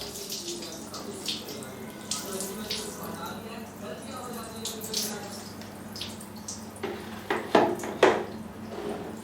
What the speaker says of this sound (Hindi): हमें हर 2-3 मिनट के बाद इसके ऊपर ठंडा पानी डालना है, इस तरह से, जिससे ये पट्टी पूरी गीली रहे।